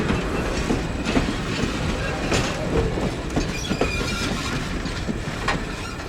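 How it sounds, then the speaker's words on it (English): Heritage passenger train on the Strasburg Railroad trundling along toward Lehman Place, with steady rolling rumble, rhythmic clickety-clack of wheels over rail joints and occasional faint wheel squeal, heard from close by. "As the 3:30 train trundled on towards Lehman Place"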